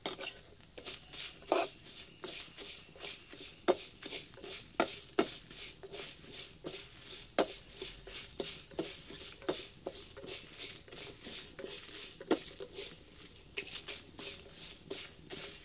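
Fenugreek and coriander seeds dry-roast in a pan, giving faint continuous crackling and small pops with occasional stirring scrapes.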